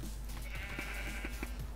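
Sheep in a video game bleat several times over a steady low background hum, the calls short and moderately loud, with no talking.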